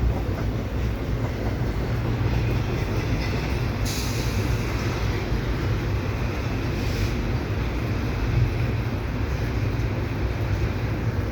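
A long CP double-stack intermodal freight train rumbles steadily past Dorval station in the rain, a loud continuous roar of wheels and cars that never lets up, with no talking.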